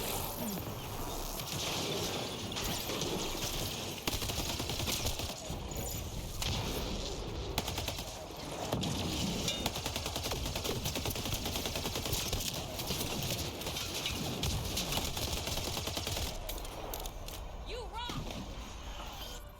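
Rapid, sustained automatic weapon fire in Mass Effect: Andromeda, a dense continuous rattle of shots lasting the whole stretch, loud and busy with a voice occasionally mixed in.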